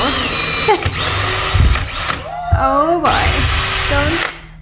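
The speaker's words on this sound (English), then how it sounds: "is drilling a hole in our door" A power drill boring a hole through an entryway door for a peephole, whining loudly in several bursts that rise and fall in pitch, with short gaps between them and people talking briefly.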